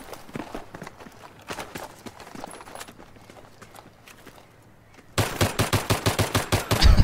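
Gunfire in the shooter game Battlefield 3: scattered shots and footsteps at first, then a loud burst of rapid, evenly spaced machine-gun fire close by near the end.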